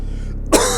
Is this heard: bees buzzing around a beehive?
no